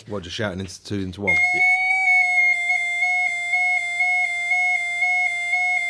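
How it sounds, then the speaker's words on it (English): A fire alarm sounds a steady, piercing electronic tone that pulses rapidly and keeps going loud and close, starting right after someone talks. "That's a fire alarm."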